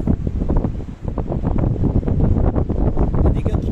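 Strong wind gusts buffet the microphone on a sea cliff on the Portuguese coast, loud rumbling blasts mixed with faint surf, with a voice partly audible beneath.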